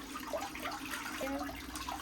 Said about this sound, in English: you can put that foot back in the water